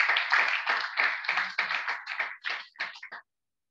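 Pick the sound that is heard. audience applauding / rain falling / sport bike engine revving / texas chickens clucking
audience applauding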